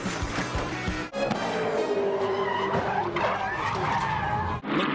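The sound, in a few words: race car crashing with heavy contact at Mount Panorama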